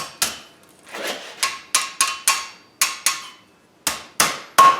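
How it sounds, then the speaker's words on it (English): Hammer striking hot iron on an anvil while forging a wreath hook: a loud, close series of ringing metallic blows in an uneven rhythm, about eleven strikes, some coming in quick pairs. "Now we're going to set it on the anvil. We're just going to hammer down on the center on this side,"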